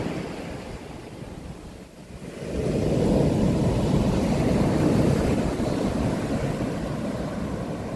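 Strong ocean waves roll onto the shore at Bangui, Ilocos Norte, a quieter wash for the first two seconds, then a loud, sustained surge of crashing surf mixed with wind buffeting the microphone.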